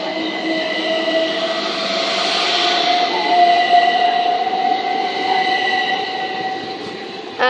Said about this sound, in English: And now departing is 377 115 to London Bridge.